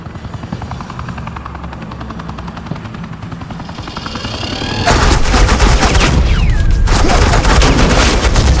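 Rapid machine-gun fire erupts in the Batman: The Enemy Within video game, loud and continuous over the steady drone of a helicopter, with the shooting bursting in sharply halfway through.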